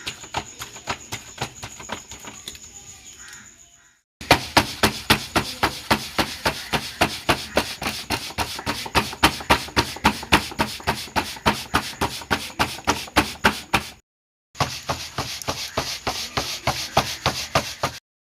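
Rhythmic, steady slapping of bhakri flatbread dough patted by hand, close up, repeating in fast regular beats with a couple of short pauses.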